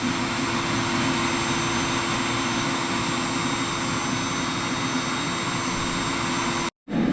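A blower forces air through an inground pool's skimmer line, giving a loud, steady roaring rush with a faint whine, close and constant until a sudden brief cutout near the end.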